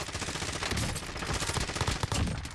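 Dense, loud gunfire from the Call of Duty: Warzone video game, with rapid shots running continuously through the whole stretch in a steady automatic rattle.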